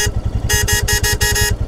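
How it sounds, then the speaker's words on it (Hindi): Horn on a motorcycle crossing a river in Nubra Valley, Ladakh, sounding badly after water got inside: six short, close, loud strained blasts in rhythm over a steady pulsing engine idle. "मेरा हॉर्न में पानी घुस गया, हॉर्न नहीं बज रहा है सही से"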